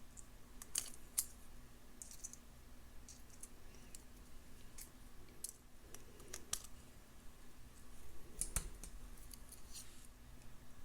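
Scissors snip excess beading wire while a beaded spider necklace is being made, giving several small, sharp clicks in scattered clusters, faint and close over quiet room hum.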